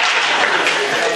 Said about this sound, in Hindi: इतनी ज्यादा तालियां दाद ना दो